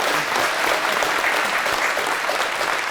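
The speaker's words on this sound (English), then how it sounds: "So please also clap your hands for Mr." An audience at a heritage month celebration breaks into steady, dense applause, a continuous wash of clapping hands held at an even level from start to finish.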